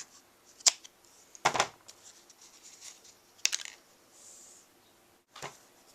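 Scissors cut through a yarn tassel just behind its knot while making a graduation cap card: a few sharp, close snips spaced out over several seconds, with soft handling rustles between them in a quiet room.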